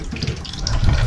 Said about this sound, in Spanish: a ver si sale agua aquí